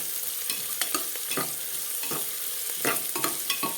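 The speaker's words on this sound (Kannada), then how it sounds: "ಈಗ ಈರುಳ್ಳಿಯನ್ನು ಹಾಕಿಕೊಳ್ತಾ ಇದ್ದೇನೆ. ಈರುಳ್ಳಿಯನ್ನು ಸಹ ಚೆನ್ನಾಗಿ ಹುರ್ಕೊಳ್ಬೇಕು" Onions fry in a pan for kushka rice, a steady sizzle under repeated close scrapes and clinks of a spoon stirring against the metal, several sharp strokes spread across the moment.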